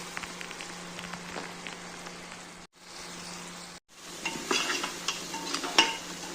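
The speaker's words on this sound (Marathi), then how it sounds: "हे बघा आता मी चांगले बटाटे मिक्स करून घेते त्याच्यात मसाल्यामध्ये।" Potatoes are stirred into masala in a pan while making khichdi, giving soft scraping and gentle sizzling with irregular spoon clatter, quiet and close, with brief pauses.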